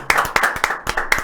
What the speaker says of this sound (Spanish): a quien recibimos con un fuerte aplauso en esta tarde